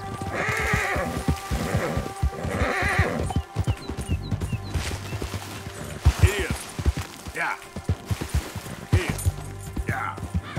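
Horse neighs and whinnies at least three times among clip-clopping hooves and scuffles, likely in a game brawl at a tavern, over a busy backdrop of footsteps and thuds.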